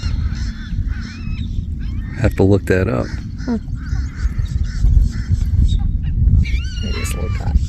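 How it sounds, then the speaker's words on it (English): Harsh, nasal barking calls from a noisy flock of black skimmers, in short bursts over a steady roar, with a person briefly speaking. "That bird's called a black skimmer."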